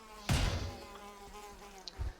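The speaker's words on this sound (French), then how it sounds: "Moustique," A mosquito buzzes in Valheim, a short insect whine rising sharply then fading over game music and ambience, with a faint second buzz near the end.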